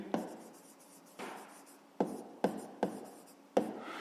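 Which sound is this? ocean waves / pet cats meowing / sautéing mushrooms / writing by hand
writing by hand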